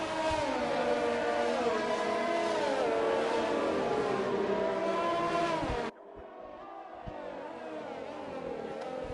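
Race cars from a Performance Racing League racing game on a formation lap at Azerbaijan, engines droning steadily with shifting pitch, then the sound drops abruptly to a quieter, thinner engine hum for the rest.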